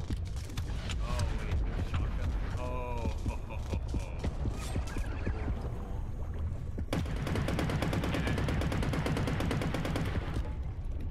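Shotgun fire in the underwater shark hunting game Depth, with rapid bursts of loud gunshots mixed with creaking mechanical game noise and a steady dense background, close and continuous throughout.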